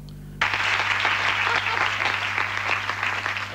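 A television studio audience breaks into applause, a sudden burst of clapping that stays full and even, with a low steady hum underneath.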